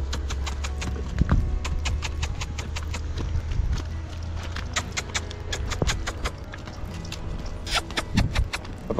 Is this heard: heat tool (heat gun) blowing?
no